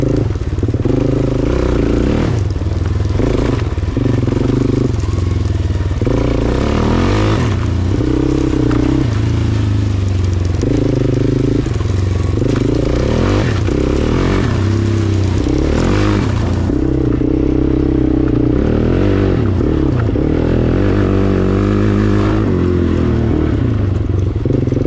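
A neglected Suzuki LTZ-400 ATV engine revs up and down while being ridden, a loud, close, continuous motor drone with rising and falling pitch and bursts of throttle, plus some clatter and no talking.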